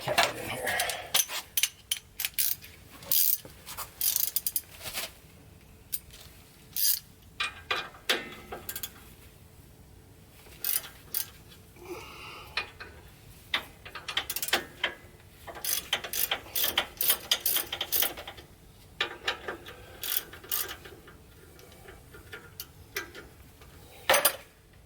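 A ratchet with a 12 millimeter socket works on rear brake bolts of a 1999 Ford Expedition, giving clustered bursts of quick metallic clicks separated by pauses and clinking tool handling, close by.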